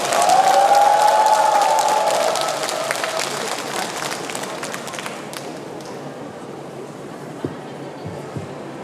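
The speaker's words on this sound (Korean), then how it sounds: "큰 박수로 청해 듣겠습니다" An audience at a Buddhist dharma talk breaks into loud, sustained applause that gradually fades over several seconds, leaving a quieter room with a few faint knocks at the end.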